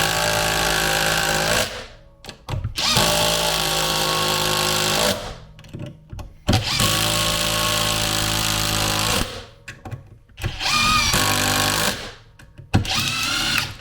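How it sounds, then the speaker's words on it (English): A compact Ryobi impact driver runs in a timed test, long loud bursts of rapid hammering whine broken by short pauses and brief restarts, close and dominant, with no talking. "Let's see what the compact Ryobi impact driver can do."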